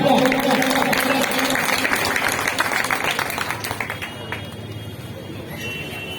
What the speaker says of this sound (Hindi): आदरणीय विजय गोयल जी के लिए जोरदार तालियां